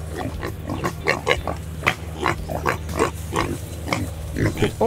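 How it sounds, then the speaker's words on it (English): Wild pigs foraging in an ash forest in Terwolde grunt and snort repeatedly up close, a steady series of low rhythmic grunts with a person speaking faintly underneath. "Pigs look for food on land."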